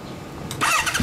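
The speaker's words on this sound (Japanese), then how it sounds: "エンジン音聞かせてもらえますか？" A Honda NC750X motorcycle, 2015 model, with a Moriwaki aftermarket exhaust cranks and fires up partway through, its loud, rough exhaust note rising and holding steady, close by.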